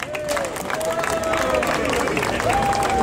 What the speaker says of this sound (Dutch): Maak een heel groot applaus voor onze burgemeester, de heer Theo Weterings.